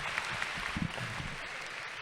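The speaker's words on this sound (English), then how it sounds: "Let's give Ike Abula a big round of applause." Applause at a high school commencement ceremony, a brief, faint wash of clapping from a distant audience lasting about two seconds.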